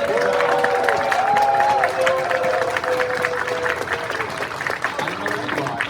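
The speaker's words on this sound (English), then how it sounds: "Can we get a special round of applause" Convention audience at a furry convention's closing ceremony applauding and cheering, a dense steady wash of clapping and crowd noise lasting throughout, with a voice speaking over it.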